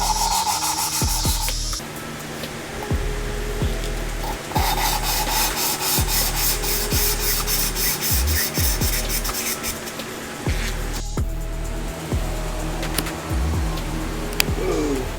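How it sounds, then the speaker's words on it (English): Valves being lapped into the valve seats of a K24 race engine, a steady loud gritty rubbing and rasping that runs almost without pause, with repeated back-and-forth strokes and no talking. "what I'm going to do next is we're going to lap the valves."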